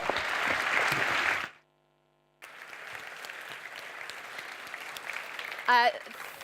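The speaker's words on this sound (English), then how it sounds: "another round of applause" Applause from a crowd, a steady broadband wash that cuts off abruptly, then a quieter spell of clapping resumes with a brief voice near the end.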